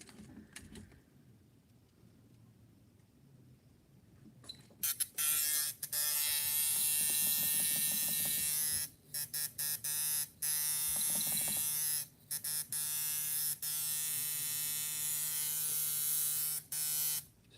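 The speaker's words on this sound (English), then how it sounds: "So let me plug a machine in here and get a look." An electric machine switches on after being plugged in and gives a loud, steady, close buzz, broken by several brief stops and restarts over a quiet start, with no talking.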